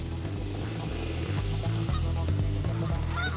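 A flock of geese honks continuously, loud overlapping calls in an uneven rhythm, close by and without any talking, as a herding dog disturbs them.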